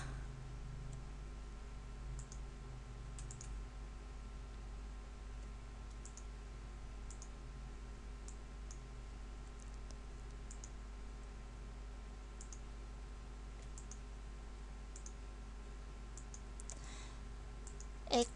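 A computer mouse clicks while drafting a bicycle head tube in SolidWorks. Faint, sparse single clicks sit over a quiet room hum.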